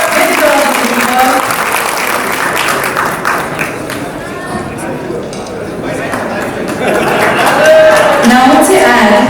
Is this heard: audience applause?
yes